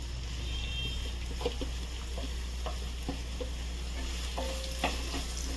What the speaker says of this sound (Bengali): পেঁয়াজটা হালকা ভেজে ফিরছি